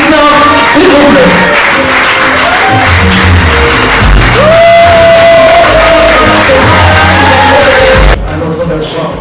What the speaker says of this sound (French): puissent encourager, applaudir le frère Christian, s'il vous plaît